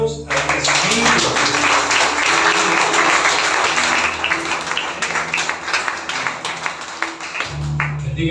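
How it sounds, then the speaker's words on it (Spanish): Loud, sustained applause from a large crowd at a church worship service, dense clapping filling several seconds with music or voices mixed underneath, tapering near the end. "Ahora den un aplauso a su Dios."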